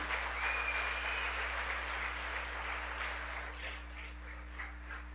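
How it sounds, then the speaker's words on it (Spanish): Church congregation applauding during a Sunday family celebration service, a broad steady wash of clapping that holds evenly throughout, with a low hum underneath and a faint whistle-like tone early on. "Dele un aplauso al Señor."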